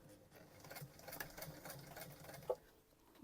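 A sewing machine runs steadily, its needle rattling in a fast even rhythm as it stitches a seam through thick fabric on a large Christmas stocking, close and fairly quiet, with one brief louder knock near the end.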